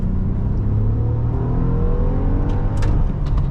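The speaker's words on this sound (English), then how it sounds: "The engine sings a beautiful melody." A 2005 Acura TL 3.2 with a six-speed manual accelerates from inside the cabin, its engine note rising steadily in a loud, smooth, continuous drone with road rumble beneath.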